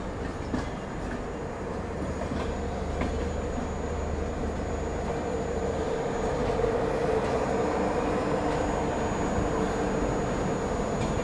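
Passenger train on the Chennai Rajdhani route pulling out of platform 10 at Vijayawada station, a steady, continuous low rumble and rolling noise with faint clatter, no voices.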